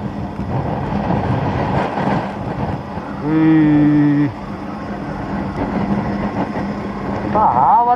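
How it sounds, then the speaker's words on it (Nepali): Strong wind roars across the microphone on a mountain road in Lower Mustang, a constant heavy rumble with a passing horn-like tone midway. "हावा चाहिँ के सर खतरा चलेको यार"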